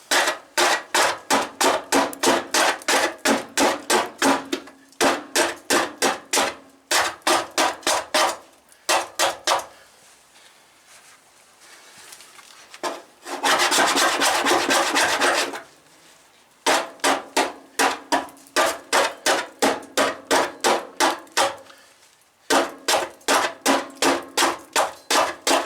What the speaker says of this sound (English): So I'll finish scraping that off